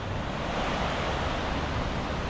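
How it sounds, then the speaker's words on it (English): Horsetail Creek rushes just above Horsetail Falls, a broad continuous roar of flowing water, steady and close with no break or voices. "That's Horsetail Creek, soon to become a fall."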